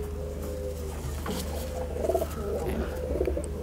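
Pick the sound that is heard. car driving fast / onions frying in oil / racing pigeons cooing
racing pigeons cooing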